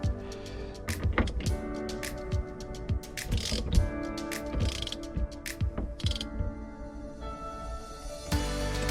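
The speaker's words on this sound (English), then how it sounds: "run your nut there, run your nut down, and then you're good to go" A ratchet clicks in quick bursts, tightening a nut on a steering wheel hub in a 1970 Chevelle, with close metallic ratcheting and creaking mechanism sounds repeating irregularly across the clip.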